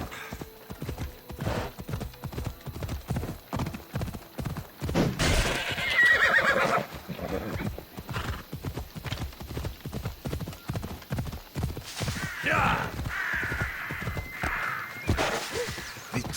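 Steady rhythmic hoofbeats of a horse ridden through the open Greek countryside in Assassin's Creed Odyssey, near and continuous, with a couple of whinnies breaking in partway through.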